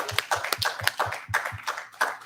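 A congregation at a Torah portion reading gives a short burst of applause. A handful of distinct, moderately loud claps are heard, from only a few hands and close by.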